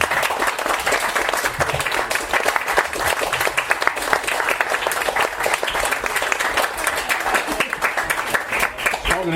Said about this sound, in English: I think we got a round of applause